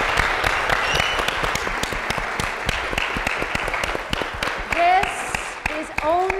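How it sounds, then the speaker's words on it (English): Applause from an audience at a live event featuring a composer, dense steady clapping with sharp close claps, and voices calling out and cheering over it. "I want to give them a huge round of applause."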